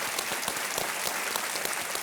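Steady, dense applause from a quiz-show studio audience welcoming guest Sumit Awasthi on KBC, a brief continuous burst of many hands clapping with no voices over it.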